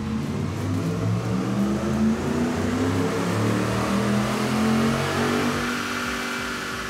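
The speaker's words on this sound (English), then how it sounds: "Then we loaded up the performance tune that comes on the F5 and re-ran her again." A 2011-2014 Ford F150 with a 5.0L engine and a Superchips Flashpaq F5 performance tune revs hard on a dyno, a loud, sustained engine note that climbs steadily in pitch.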